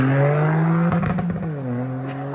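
A Toyota Yaris GR fitted with a cat-back exhaust drives close by, its engine holding a steady loud drone with a brief rough burst of revving partway through, then settling back to a smooth hum.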